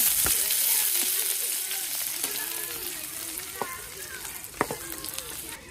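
Onions fry in a pan with a loud, continuous sizzle close by. Scattered knocks and scrapes of stirring punctuate it, and one sharp clack comes near the end.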